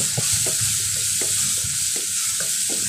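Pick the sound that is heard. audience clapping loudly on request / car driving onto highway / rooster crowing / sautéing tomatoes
sautéing tomatoes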